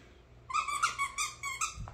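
A Costco Tuffy squeaker plush dog toy squeaks several times in quick, uneven bursts, high-pitched and close, after a brief quiet start.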